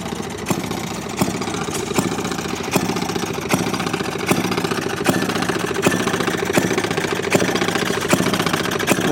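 Antique stationary engines idle at an engine show, a low continuous rumble with loud evenly spaced firing knocks roughly every 0.8 seconds.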